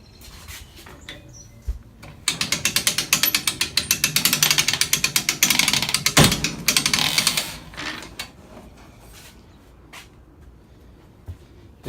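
A ratchet winch on a lawnmower/motorcycle lift cranks with a rapid, even run of metallic pawl clicks for several seconds, loud and close, then slows to a few scattered clicks.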